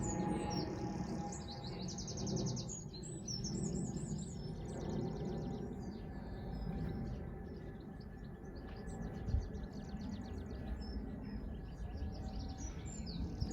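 Small birds twitter and chirp in a walled English country-house garden beside a deep herbaceous border, a soft continuous chorus of high tweets over a low outdoor rumble, steady and fairly distant throughout.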